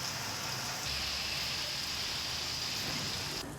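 Steady, dense rainfall hisses continuously, pattering on surfaces with no voices.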